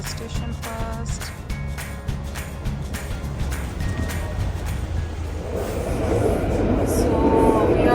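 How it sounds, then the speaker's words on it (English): London train heading toward London Bridge, heard from inside: a steady rumbling ride with rhythmic rail clicks, the roar building louder toward the end. "So we are in the train now."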